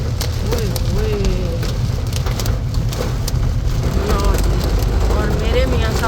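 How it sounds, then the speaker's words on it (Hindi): Heavy, steady rain pours down hard just after a hailstorm in Italy, forming a dense continuous roar while someone speaks excitedly over it. "ओले कम हो गए, लेकिन बारिश फ़िलहाल बहुत तेज़ है"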